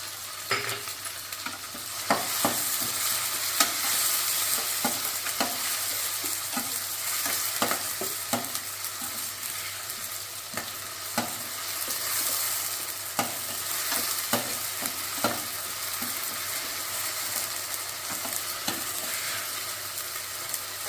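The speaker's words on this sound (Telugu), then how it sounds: "ఇందులో అల్లం వెల్లుల్లి పేస్ట్ యాడ్ చేస్తున్నాను." Ginger garlic paste fries in a hot pan with a steady broadband sizzle while a spoon scrapes and stirs at irregular intervals, producing repeated sharp clicks over about twenty seconds with no talking.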